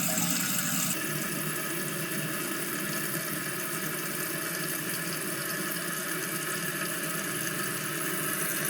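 Steady rushing water refilling a toilet tank, a continuous hiss and gurgle close by with no talking.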